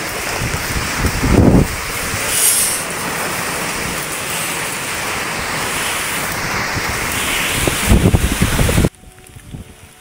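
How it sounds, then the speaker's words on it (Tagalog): Strong Super Typhoon Pepito gusts in Bicol, Philippines roar steadily into the microphone with heavy buffeting, swelling in loud bursts before cutting off abruptly near the end. "Grabe lakas ng hangin pa rin."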